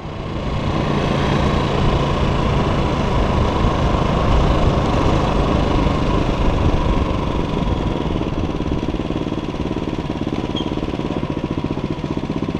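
A motorcycle engine drones steadily while riding along a road in Roraima, a loud, continuous close-up rumble with wind noise that holds nearly unchanged throughout.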